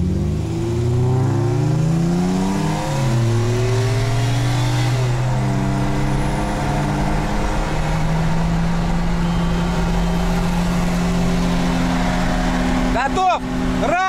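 A VAZ 2109 16-valve and other cars pull hard in second gear from a rolling 80 km/h in a street race, engines revving loudly and rising in pitch, loud and close throughout, with a brief clatter near the end.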